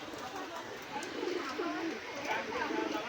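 Pigeons coo in low, repeated rolling calls at a pigeon market, close by, with people talking in the background.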